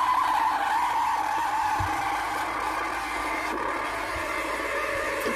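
A Bialetti Mukka Express stovetop coffee maker frothing milk gives a steady, fairly loud hissing, bubbling roar that runs unbroken throughout, with no talking.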